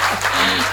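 Audience applause at a comedy poetry show, a dense continuous wash of clapping that fills the whole short moment at steady loudness.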